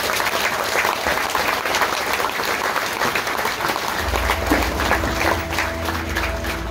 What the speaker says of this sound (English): we'll just give them another round of applause